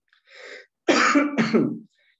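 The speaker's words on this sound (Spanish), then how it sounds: "Disculpen la tos" A man giving an economics lecture coughs and clears his throat, a soft rasp followed by two loud, harsh bursts close to the microphone, with no talk over it.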